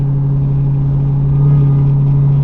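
A 2023 Dodge Durango Hellcat with a muffler delete gives off a steady, loud whine while driving, a single sustained tone that rises slightly partway through over a low rumble.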